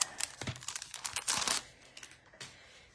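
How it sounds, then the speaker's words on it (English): Plastic wrapping on a freshly arrived craft-supply package crinkles in quick, irregular bursts, close and fairly loud, easing off into a few sparse rustles after a busy first second and a half. "So, excuse the crinkling wrapping."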